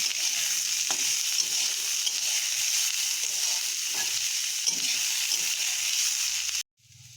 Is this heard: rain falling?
no